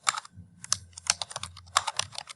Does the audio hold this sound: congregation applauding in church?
no